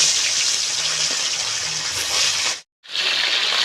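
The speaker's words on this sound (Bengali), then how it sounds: "মাছ আমি একে একে এখন ভেজে নেব।" Small chanda fish (pomfret) sizzle in hot oil in a kadai as they go in one by one, a steady loud hiss that cuts out briefly and resumes.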